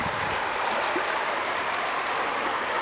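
River rapids rush around inner tubes, a steady broadband roar of churning whitewater that stays loud and close throughout with no talking.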